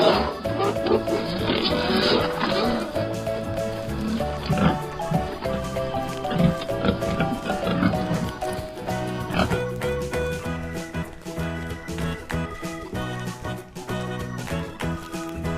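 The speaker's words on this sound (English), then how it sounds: "Pig." A pig oinks and grunts repeatedly over a busy music backing, the snorts irregular and fairly close.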